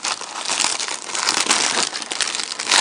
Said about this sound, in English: I'm going to open this package up here